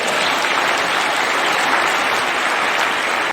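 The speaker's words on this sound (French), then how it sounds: "que je vous demande d'acclamer" A church congregation applauding brothers and sisters receiving certificates at a joint worship service, with steady, dense clapping filling the room throughout.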